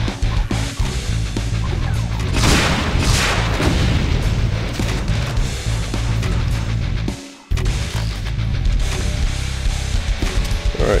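Rocket explosions in Brutal Doom, loud booming blasts piling into a dense, continuous barrage of heavy impacts and gunfire, broken by a brief drop-out before the roar resumes.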